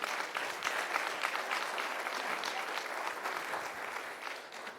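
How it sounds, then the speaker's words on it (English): An audience at a Coral Springs city commission meeting claps steadily, a moderately distant, even round of applause that tapers slightly toward the end. "let's give them a round of applause"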